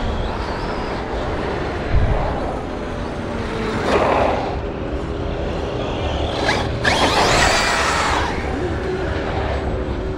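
The handbrake on a petrol car is yanked up in short ratcheting pulls, with two rasping bursts standing out over a steady low vehicle hum and faint background sound.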